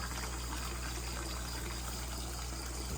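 Water runs steadily into a crayfish tank, a faint, continuous trickling and splashing hiss with no pauses or voices.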